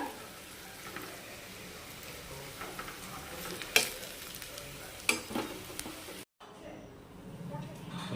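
Telebhaja fritters frying in hot oil: a steady, faint sizzle with occasional crackles and sharper pops runs throughout, and a short silent gap comes near the end.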